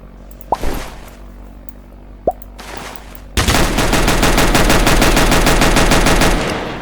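A pistol-rifle hybrid gun in the Roblox video game fires two single sharp shots a couple of seconds apart, then a loud, sustained rapid-fire burst lasting several seconds.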